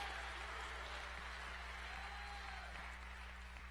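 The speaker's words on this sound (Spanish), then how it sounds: "Démosle palmas al Señor, hermano" A church congregation claps for the Lord during a Spanish-language service, a steady, dense wash of applause held at an even level throughout, with no voices standing out.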